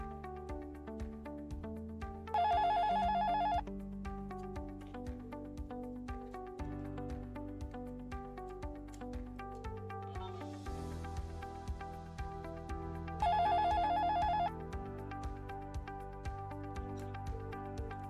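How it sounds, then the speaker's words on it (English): An analog phone connected through an IP PBX VoIP module rings on an incoming call, with two short, steady electronic ring bursts about eleven seconds apart over continuous background music. "Look, dialing from one phone and the other is ringing."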